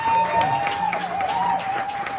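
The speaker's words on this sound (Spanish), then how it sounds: "aplausos para el caos" An audience claps for a cultural venue in Jalapa hosting son jarocho music, making a brief, dense burst of applause. A sustained whistling tone rides over it.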